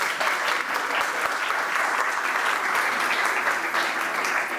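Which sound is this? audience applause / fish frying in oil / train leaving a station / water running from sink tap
audience applause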